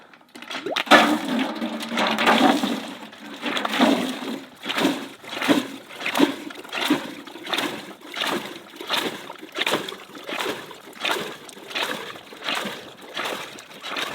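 Water gushes out of a hand pump at an off-grid homestead in steady rhythmic surges, roughly one splashing stroke per second, close and fairly loud with no talking.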